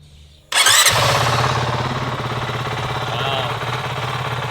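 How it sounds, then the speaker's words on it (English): Honda CRF450L dual-sport motorcycle engine firing up abruptly from near silence, then settling into a loud, steady, throbbing idle with a fast, even pulse that carries on close by. "it's idling like a beast around here"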